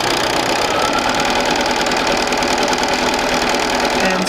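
A sewing machine runs steadily, stitching two stacked fabric pieces together with a continuous mechanical whir that fills the whole stretch, loud and close.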